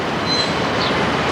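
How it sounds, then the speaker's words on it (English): A train rolls through a railway station in Italy, bound for Potenza, giving a loud, steady rumble of wheels on track with a faint high squeal on top, close and continuous throughout. "With the train to Potenza."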